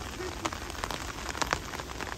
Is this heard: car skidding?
no